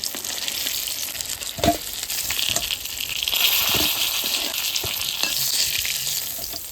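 Pieces of katla fish frying in hot oil, a loud dense sizzle that swells and crackles up close, with a few sharp spatter pops and occasional stirring, no voices.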